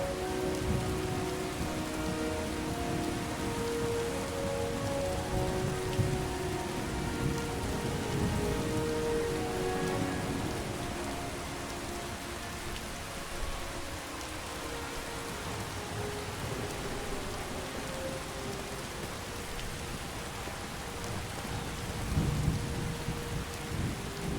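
Steady rain pours down during a Skyrim thunderstorm, with low rolling thunder rumbling beneath the constant hiss of drops, loud and continuous without any voices.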